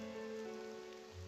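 Steady rain falls in the video game Persona 4 Demake, a continuous soft hiss layered with faint tonal game music, no voices.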